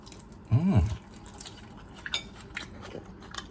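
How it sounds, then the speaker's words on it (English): Bites and chewing of tuna salad made with Miracle Whip come close and soft, with faint utensil clinks and mouth sounds, while a voice briefly speaks in a low, wavering tone early on. "I'm gonna try a bite of this."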